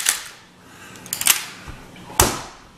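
Metallic clacks from the bolt of a Mosin Nagant M91/30 rifle being worked shut, a few crisp close-up clicks spread over a couple of seconds with a sharp final snap, no talking.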